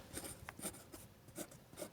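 Pen scratching across paper during a Class 6 math lesson, short quiet strokes in bursts with soft rubbing between them, close and faint, no voices.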